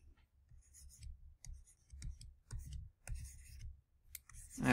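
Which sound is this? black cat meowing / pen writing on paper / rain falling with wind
pen writing on paper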